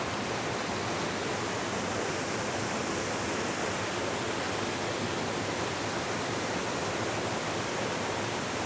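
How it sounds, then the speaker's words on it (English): A loud, steady roar of falling water, constant and unbroken, with a broad hissing wash filling the whole stretch. "Now I've got a beautiful big waterfall."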